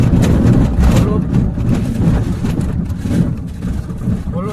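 A car rumbles along an open desert track in the Zinzuwada Rann, crossing tractor-rutted ground, its low engine drone continuous and close, with voices talking over it.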